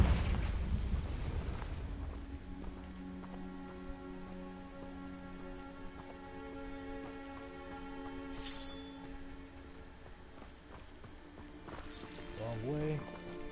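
A Confringo blasting curse explodes in Hogwarts Legacy as one loud, close blast at the very start that quickly dies away. Sustained tones and a soft patter follow, with a voice heard later.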